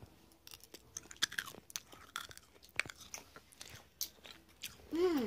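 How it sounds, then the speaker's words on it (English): Close-up chewing of crunchy yet chewy Japanese jelly bean candies, with irregular crisp crunches and wet mouth clicks spread unevenly across the clip and a brief squeaky sound near the end. "They're chewy. They're not even like a jelly bean, they're like crunchy."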